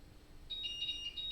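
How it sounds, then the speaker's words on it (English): Steady high electronic beeping comes from a battery on charge, a thin pulsing tone that begins halfway through and stays fairly faint over a low background hum. "that's the sound of a battery being charged"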